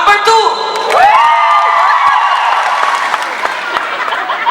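An audience claps and shouts loudly at a live show, with cheers and whoops over steady applause, a voice calling out near the start.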